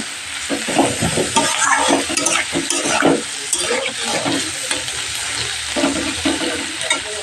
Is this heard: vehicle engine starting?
no